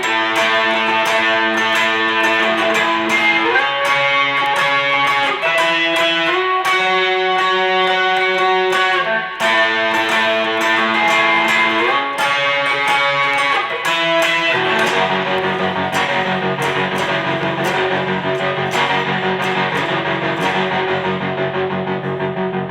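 Loud distorted electric guitar chords with a pulsing tremolo, the volume throbbing rapidly as the chord pattern shifts and settles into a final sustained chord.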